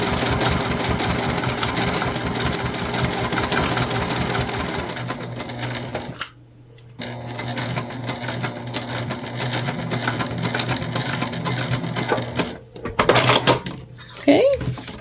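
A sewing machine runs steadily and close over the plastic zipper teeth of a Magnolia tote bag, then slows and stops, with a brief restart and some handling noises near the end.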